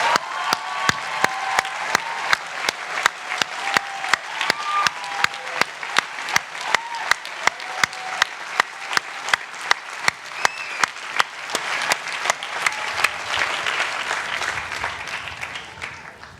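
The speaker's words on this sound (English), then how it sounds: "one more round of applause for all the marshals" At the HGSE 2015 convocation, an audience claps for the marshals over a steady, regular beat of sharp claps like a rhythmic metronome-like pulse, dense and sustained, swelling into fuller applause toward the end.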